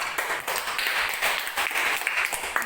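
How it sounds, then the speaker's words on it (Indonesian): Schoolchildren clap together in a classroom, a steady burst of applause for a classmate that runs the full length, fairly close and lively, with no talking over it. "Kita tepuk tangan sekali lagi untuk Bakir."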